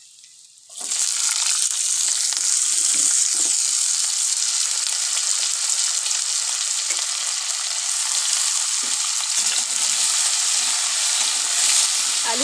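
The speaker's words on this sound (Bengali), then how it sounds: "এবারে কেটে রাখা আলুগুলি দিয়ে দেব।" Cut potatoes hit a pan of oil with onions fried to red and green chilli, bursting into a loud, continuous sizzle that holds steady close up.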